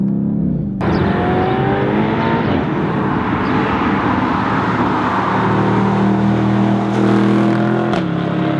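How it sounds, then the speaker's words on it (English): A BMW M850i's engine starts up and runs with a steady, deep rumble, the revs rising and settling as it drives, loud and close throughout. "So how does this new BMW M850i drives like?"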